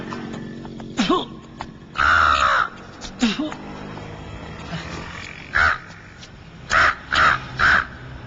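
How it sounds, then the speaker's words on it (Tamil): A crow caws repeatedly, loud and harsh, with a quick run of three caws near the end over a steady background hum. "எப்ப விடும்போது அடிக்கடி காக்கான்னு சவுண்ட் வருது"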